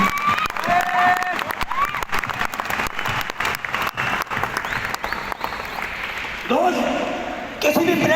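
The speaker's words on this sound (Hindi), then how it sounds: "एक बार अब तक की सबसे जबरदस्त और जोरदार ताली बजाइए दोस्तों" Sustained applause from a large audience filling a stadium hall at a wellness company event in Delhi, dense continuous clapping with some cheering mixed in, loud and steady throughout with a brief swell near the end.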